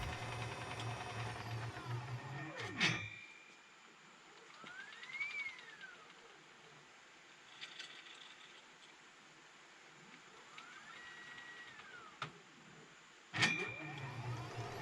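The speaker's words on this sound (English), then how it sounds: "The carriage then travels to pick up a cap positioned on the right magazine." On a fill-and-cap machine the carriage travels to pick up a cap from the right magazine: faint motor whines rise and fall over a low hum, framed by sharp mechanical clicks at start and finish.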